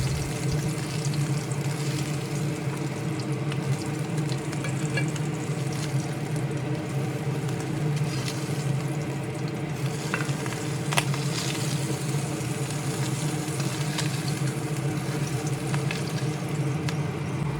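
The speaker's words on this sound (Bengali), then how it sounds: "ট্যাংরা মাছগুলো ভেজে নিয়ে কড়াই থেকে তুলে নিচ্ছি" Tangra fish frying in hot oil in a wok, about to be lifted out for a bitter gourd curry. A steady, dense sizzle runs unbroken at an even level throughout, with no voices.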